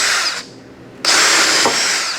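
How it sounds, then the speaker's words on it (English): A power drill with a small-diameter bit whirs loudly, pre-drilling wood for lag bolts, pauses briefly, then spins up again and runs steadily at close range. "we pre-drill with a smaller diameter bit"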